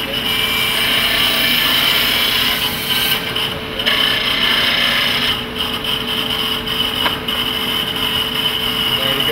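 Rounding over the ends of a wooden piece for an acoustic guitar build, with steady dense rasping and rubbing abrasion that pauses briefly a few times, close and loud.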